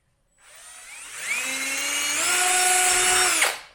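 A small power tool whirs up to speed while grinding burrs off a metal part for a Toyota Tacoma phone mount, a close rising whine lasting about three seconds before it spins down.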